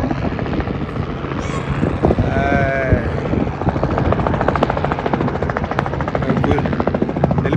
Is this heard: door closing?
no